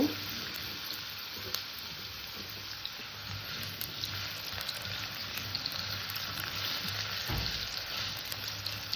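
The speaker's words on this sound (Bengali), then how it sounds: "আলুটাকে একটু ভেজে নেব" Cut potatoes fry in oil with whole spices such as cinnamon in a pan, giving a steady, fairly soft sizzle with a few stirring sounds and no speech.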